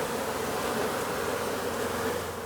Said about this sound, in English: The bees are crawling on my hands, but they're pretty chilled out so far.